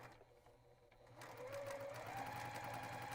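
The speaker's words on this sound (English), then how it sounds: "I'm just sewing them together in 3 parts like that." A sewing machine stitches quilt pieces together for a mystery quilt top. After a quiet start, a steady mechanical whir swells in and runs continuously, close and moderately loud, with no talk.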